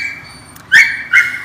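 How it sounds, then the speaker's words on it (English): A neighbor's dog whines in a thin, sustained whimper, broken by two sharp yelping barks close by. "my neighbor's dog just came out"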